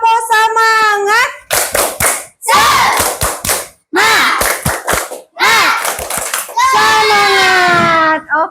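Children in a classroom perform the tepuk semangat clapping chant, rhythmic bursts of hand claps alternating with loud chanted voices, repeated in several close, energetic rounds.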